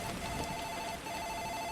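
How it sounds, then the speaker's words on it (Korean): A telephone rings in the horror video game Mirror Mirror: a steady, repeating electronic tone that pulses softly over a dense hum of ambient game noise, and no one speaks. "어, 전화다."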